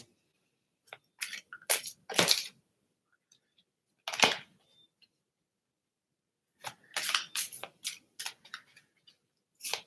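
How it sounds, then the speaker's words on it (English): Quick riffle shuffling of a deck of message cards for a pick-a-card reading, heard as several bursts of dry crisp snapping and flutter, near and fairly loud, with pauses between them and no talk. "So I'm going to give them a little quick shuffle."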